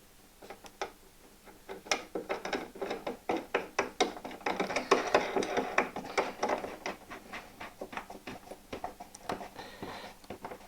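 A tightening knob is screwed down to secure a Festool Kapex miter saw to an MFT table, giving a close, rapid series of ratcheting clicks and taps that build and then ease off.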